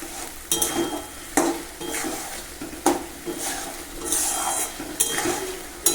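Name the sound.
stirring and sautéing spices in a pan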